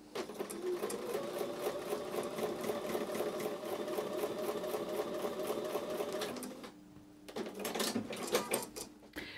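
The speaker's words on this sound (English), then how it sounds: "I'm going to take all of those over to the sewing machine now and sew them together" A sewing machine stitches fabric pieces together in a rapid, even mechanical whir. It pauses briefly near the end, then starts up again, close and fairly quiet, with no talking.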